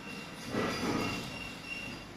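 A mustard oil filter machine driven by a Japanese motor runs steadily, giving a close, continuous mechanical hum and whir with a slight swell in the middle and no voices.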